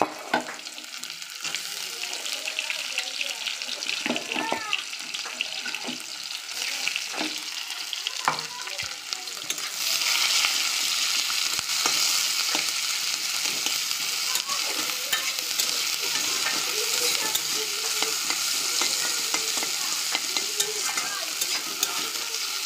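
Onion and whole cumin frying in a pan, a close, continuous sizzle that swells louder partway through, with scattered scraping and stirring clatters over it.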